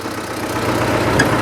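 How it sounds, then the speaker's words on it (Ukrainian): A T-40AM tractor engine runs steadily nearby, a continuous loud rumbling drone with a faint rattly knock and no pauses, no voices heard. "хоч торохтить, хоч мотор робить"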